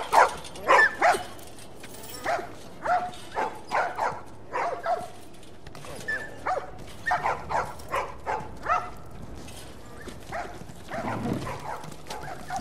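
Dogs in The Last of Us bark repeatedly in short, evenly spaced yelps and woofs, fairly close, with some whimpering and a quieter stretch of muffled barks near the end.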